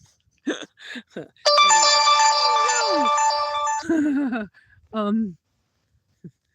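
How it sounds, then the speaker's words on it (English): Phone notification ringtone going off inside a Chevy Tracker on a road trip, a loud sustained multi-tone ringing chime lasting about two seconds, with bursts of talk before and after it. "I didn't shut off all the notifications before we started, so I don't know if you're seeing those."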